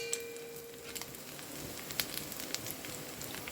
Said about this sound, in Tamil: சிக்கனை வந்து கொஞ்சம் பொரிச்சிக்கலாம்